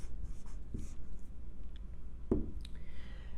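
Pen or pencil writing on paper while working through a math proof on rational numbers, faint scratchy strokes and a couple of soft taps over low background hum.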